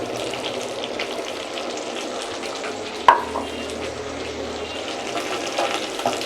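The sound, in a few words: carrot and pepper frying in pan for beef pilau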